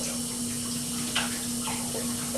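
A sink tap runs steadily while quinoa is rinsed under warm water, producing a constant close splashing wash with a faint hum underneath.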